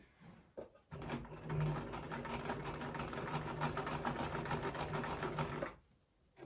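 Regular household sewing machine zigzag-stitching a buttonhole, one steady close run of about five seconds with a rapid rhythmic needle clatter, starting and stopping cleanly, no voices.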